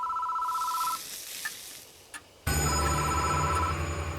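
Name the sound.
telephone ringing in video game Death Mark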